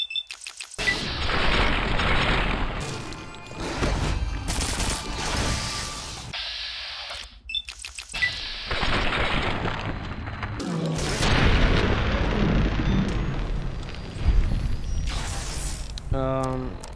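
Bozar rifle bursts and heavy explosions in a Fallout game, loud booming blasts repeating in rapid clusters with brief mechanical clanks and quiet gaps between volleys.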